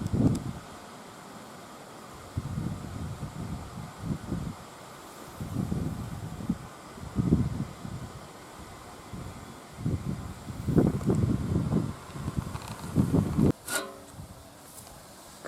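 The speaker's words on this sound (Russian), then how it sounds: "потому что на улице очень сильный ветер." Strong wind buffets a microphone outdoors in repeated low rumbling gusts, with quieter lulls between bursts and a sharp click near the end.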